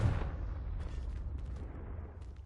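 Confringo explosive spell cast in the Hogwarts Legacy video game: one loud blast at the start, then a long rumbling decay that fades over the next two seconds.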